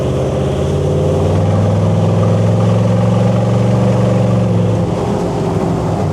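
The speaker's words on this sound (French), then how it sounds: "Mais ça fait un beau bruit de V8" A V8 4-litre biturbo diesel engine idles steadily and loudly, its deep, even rumble holding throughout with no talk over it.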